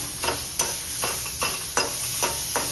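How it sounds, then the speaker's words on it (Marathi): Tomatoes sauté in a pan with a steady sizzle, punctuated by about six regular spatula strokes in quick rhythm, close by and without speech. "यामधलं कच्चेपणा जाईपर्यंत टोमॅटोला परतून घ्यायचा"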